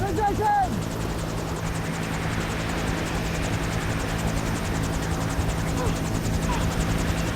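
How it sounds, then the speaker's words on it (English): A helicopter hovers near a mountainside in bad weather, its steady rotor thrum and engine drone filling the whole stretch at moderate distance, continuous and unbroken. "Because of the weather conditions, the pilot's going to maintain a hovering position."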